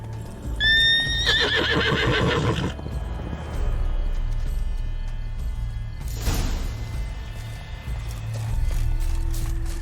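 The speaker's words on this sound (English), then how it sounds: "Roach likes carrots. Maybe Unicorn will too" A horse in The Witcher 3 lets out a loud, close whinny near the start, followed by steady clip-clop hoofbeats and a second, fainter whinny midway, over game ambience with no talk.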